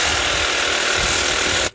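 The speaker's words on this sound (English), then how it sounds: "using the shears over a circular saw for aluminum cutting" Hand shears cut aluminum boat decking, giving a loud, close, continuous rattling mechanical chatter that stops abruptly at the end.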